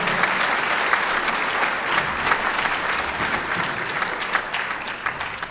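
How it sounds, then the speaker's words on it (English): Luncheon audience at a distinguished service awards event applauding, a thick, even roar of many clapping hands held at a steady level throughout, with no speech over it. "One round of applause for you all who've made today such a wonderful event and success."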